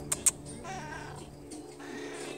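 A black neighbourhood cat meows close by, a drawn-out plaintive call after two quick clicks, with no one speaking over it.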